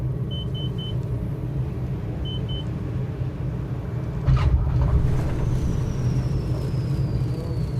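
A Diamond DA62 comes down hard on the runway in Microsoft Flight Simulator. A steady engine-and-rolling rumble swells into a heavier jolt midway through, with faint electronic beeps early on.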